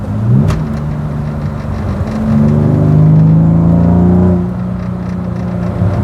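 A BMW E36 engine revs up as the throttle is pressed inside the car, the pitch climbing and swelling to a loud peak around the middle before easing back to a steady hum.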